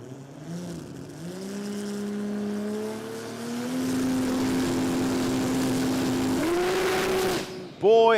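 A Toyota 2JZ-engined drag race car launches down the strip at a drag racing event. Its loud engine note climbs steadily through the run and then cuts off sharply at the end.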